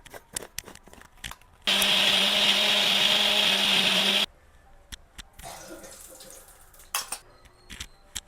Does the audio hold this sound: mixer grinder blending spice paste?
yes